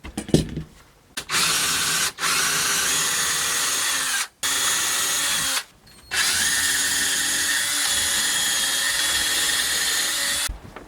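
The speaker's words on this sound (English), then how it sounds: "I'm going to put 3 screws in either side, so I'm going to get these holes drilled out now." Power drill boring screw holes in wooden ottoman panels, several sustained high whirring runs separated by brief pauses, close and loud, with no voices.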